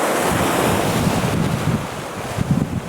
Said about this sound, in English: Some of these waves are getting a little bit splashy